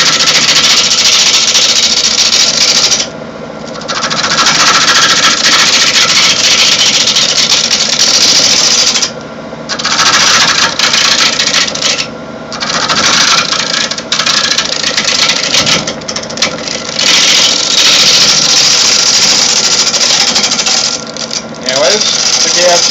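Wood lathe rough turning a blank with a gouge, a loud high whirring cut that drops out briefly several times as the tool lifts, with someone talking over it.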